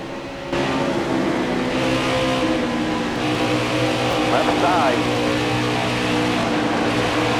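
Race car engines roar steadily in the NASCAR Heat 5 video game, a dense pack of stock cars droning loud and continuous through the whole stretch, with a brief rising whine in the middle.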